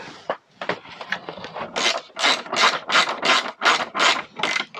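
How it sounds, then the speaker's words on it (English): Fairing screws being driven into a Yamaha Thundercat motorcycle, giving a close series of about a dozen rapid ratcheting bursts in an uneven rhythm that grows louder and more regular, with no speech. "So I need to get myself a couple of fairing screws, get a couple of these in"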